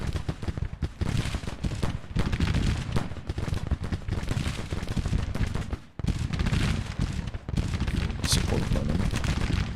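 Civil War battle in the Grand Tactician strategy game: dense, continuous musket volleys and booming artillery rumble at moderate loudness, a crackling barrage with a brief lull partway through, without talk.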